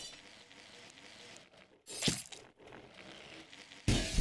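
Glass shattering in the video game Happy Wheels, a short bright crash of breaking panes amid steady game noise, with a second burst of crunching glass at the end, loud and close.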